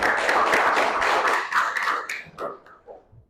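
A classroom group claps hands together at the close of a lesson, a dense burst of many overlapping claps that thins out and fades over a few seconds.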